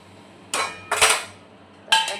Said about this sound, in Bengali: একটা ঢাকা দিয়ে দিলাম।